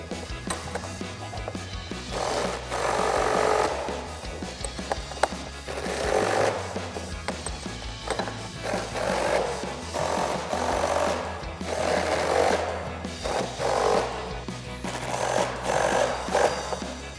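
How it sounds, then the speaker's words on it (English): An impact wrench fitted with a T45 Torx socket tightens rivet bolts on RAM 2500 fender flares in bursts of rapid mechanical hammering, several close, loud runs separated by short pauses. "a T45 Torx socket on our impact, and just tighten these down"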